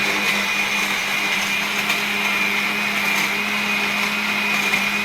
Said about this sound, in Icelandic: Þetta er lilla Anna blandarinn